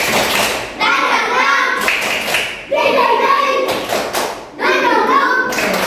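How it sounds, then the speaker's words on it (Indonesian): A class of students in a Makassar school lesson clapping a rhythmic spirit cheer, loud patterned bursts of claps alternating with chanted voices in repeated phrases. "Oke, tepuk semangat."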